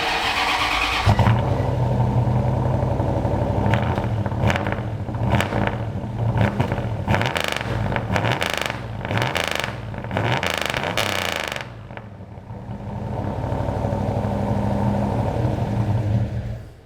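A turbocharged V8 police car with a custom exhaust and EFI starts and runs loud and close, with a string of sharp revs blipping over a rough idle, then a short dip before it settles back to a steady run.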